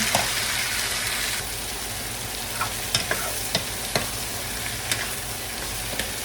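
Shrimp stirred and fried in a hot pan, a steady dense sizzle with a few sharp clinks of a utensil against the pan, close and continuous without talk.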